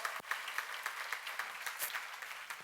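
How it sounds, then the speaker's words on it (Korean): A church congregation at a seminary session claps in a steady, sustained burst, many hands blending into a continuous wash of applause with quicker sharp peaks, moderately distant and fairly faint. "박수 좀 세게 쳐"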